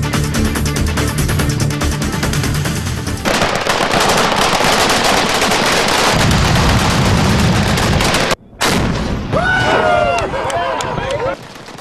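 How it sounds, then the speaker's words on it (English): Rapid machine gun fire at a twice-yearly recreational shooting event near Kingman, Arizona, dense and continuous, loud and close, with a short break near the end and some speech-like sound mixed in. "The machine gun shoot happens twice a year, attracts hundreds of people."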